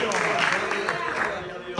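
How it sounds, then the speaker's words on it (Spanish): A church congregation applauds during a Spanish-language sermon, a steady wash of clapping from a crowd that holds for the whole stretch, with voices mixed in under it. "Dale ese aplauso al Señor."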